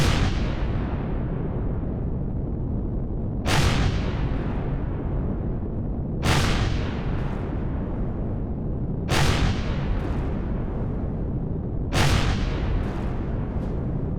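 Plasma cannons being blown up in the space survival game Empyrion, with four loud booming explosions spaced a few seconds apart over a constant dense rumble and no talk.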